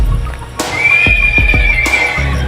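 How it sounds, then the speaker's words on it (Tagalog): A horse neighs in a long, loud whinny at a street in Danawan, with sharp hoof clip-clops on pavement around it and steady outdoor background noise. "Yun, umaling yung kabayo."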